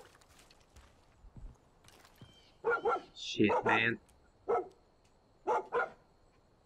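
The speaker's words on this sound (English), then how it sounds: "He's such a good little dog." A dog, Boomer, in Far Cry 5 gives a few short barks in two close pairs after a man's muttered words, moderately loud amid quiet game ambience.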